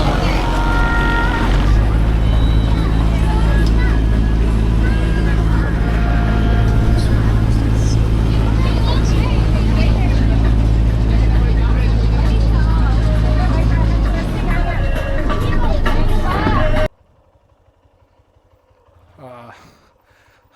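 A big passenger boat runs on Kanva Reservoir, its engine a loud, steady droning hum with voices mixed in. The drone cuts off near the end, leaving only quiet background.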